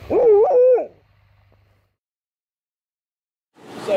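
Greenland sled dogs near Qeqertat give one close, drawn-out whining yelp, then fall silent before a second burst of barking and whining rises at the end.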